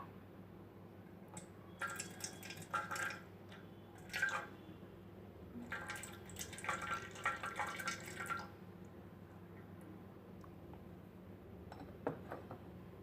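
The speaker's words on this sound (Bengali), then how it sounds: "ভক্তগণ, আমরা ভগবান শ্রীকৃষ্ণকে এখন দুগ্ধ দ্বারা স্নান করাবো।" Milk poured over a Krishna deity during a Damodar month bathing ritual, a soft intermittent splashing and trickling of liquid in bursts over a low background hum, faint and without voices.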